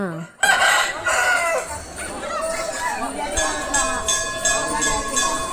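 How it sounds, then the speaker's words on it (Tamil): A rooster crows loudly and clearly outside a Murugan temple, one long drawn-out call with voices murmuring faintly in the background. "வெளியில் வர டைமில் சேவல் அழகாக கூவிச்சு"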